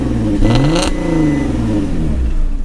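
A Porsche Cayenne 3.2 engine revs hard, its pitch climbing quickly, then holds at the factory rev limiter set at 4000 rpm with a loud buzzing drone before easing off slightly.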